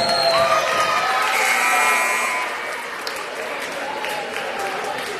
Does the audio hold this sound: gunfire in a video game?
no